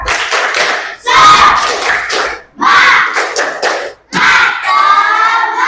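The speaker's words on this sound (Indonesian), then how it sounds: "tepuk tangan buat kita semua" A standing group in an ice-breaking session claps in loud rhythmic bursts with short pauses between them, close and energetic, with shouts mixed in.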